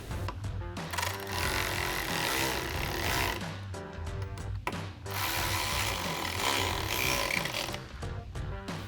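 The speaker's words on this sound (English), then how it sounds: "take your 5mm Allen socket, tighten them both down" A ratcheting tool driving a 5mm Allen socket to tighten bolts on a Barricade HD roof rack extension for a Jeep Wrangler JL, a steady, loud mechanical whirring with brief pauses, no talking.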